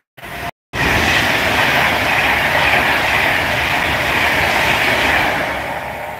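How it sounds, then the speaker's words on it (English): A crew train and a Pendolino pass through Rugeley Trent Valley station, a loud close sustained rush of rolling wheels and rail noise that fades slightly at the end, after a brief cut near the start. "here comes the crew train. And it comes a Pendolino as well"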